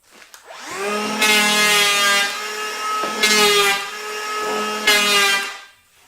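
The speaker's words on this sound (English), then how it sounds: "I set my saw, or my cordless hand planer on as low as the setting will go" A cordless hand planer set to its lowest depth smooths wood on an old front door, whining in three loud, close passes, each rising in a harmonic buzz before cutting off.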